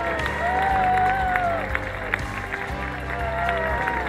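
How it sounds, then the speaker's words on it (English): A crowd applauds cancer survivors at an outdoor charity race event, with sustained clapping and some cheering rising under a voice that talks over it. "Let's give a round of applause to that."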